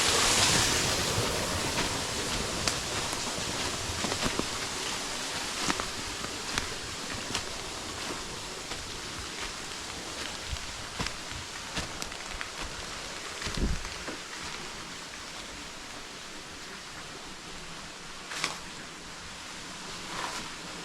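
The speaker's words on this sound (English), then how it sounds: "You can see out there, you guys, it's raining right now, okay?" Rain falls outside a cave, a steady broadband hiss with scattered sharper drips and taps, heard alone with no voices.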